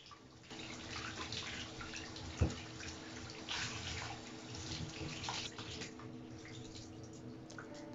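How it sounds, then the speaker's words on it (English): Fabric dyed with pomegranate skins is washed under cold running water, a quiet, steady stream with soft splashing and squishing as the cloth is handled, plus one brief louder knock. "and wash it really well with cold water."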